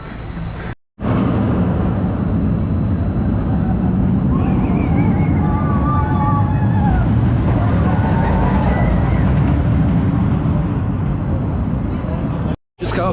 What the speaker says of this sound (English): about to go ride this classic Aero Corkscrew here at Michigan's Adventure